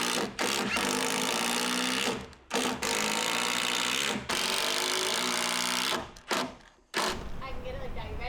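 A power tool drives lag screws into a wooden rafter in long, loud bursts of buzzing motor, broken by short pauses. Close and harsh, with voices around the bursts.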